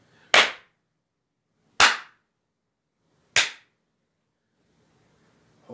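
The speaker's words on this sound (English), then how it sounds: "Let's go ahead and do a clap test." Three sharp, loud hand claps spaced about one and a half seconds apart, each ringing briefly in a small room treated with acoustic panels, with near silence between them.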